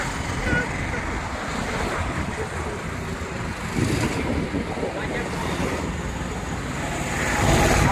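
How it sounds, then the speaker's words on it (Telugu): A waterfall gives a loud, continuous broadband roar, close by and steady, with gusts of wind buffeting the microphone throughout. "water fall"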